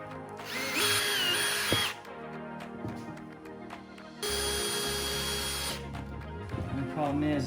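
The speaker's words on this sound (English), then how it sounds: "Come over here and put some holes in it." Power drill boring holes into wood while building a beehive honey super, with two sustained whirring runs separated by clunks and handling noise.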